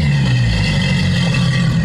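A V8 outboard boat engine starting and running, a loud, steady low mechanical drone that stays close and constant with no voices.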